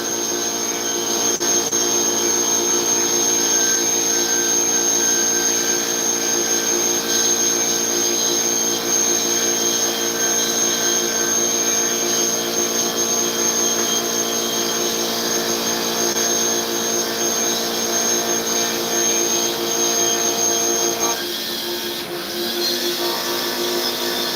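A metal-cutting milling machine on power feed runs as a steady, loud, close whine and hum with droning tonal overtones, holding constant for over twenty seconds before a brief shift near the end.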